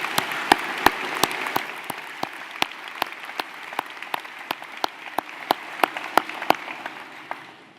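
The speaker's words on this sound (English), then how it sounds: "Join me in another round of applause for all of these young people" Applause from an audience at a senior ceremony honoring a graduating class, a steady wash of clapping with sharp individual claps popping out near the recording position, continuing throughout before thinning at the end.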